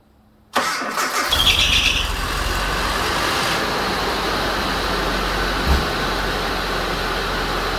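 A 1994 Nissan D21 Hardbody pickup engine cranks and starts, then settles into a steady, loud, close idle as it warms up, with no talk.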